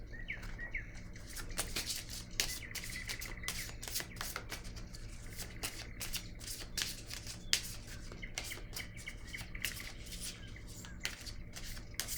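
Playing cards being shuffled and handled, a quick run of crisp riffling and snapping flicks repeating across the stretch, close and fairly quiet.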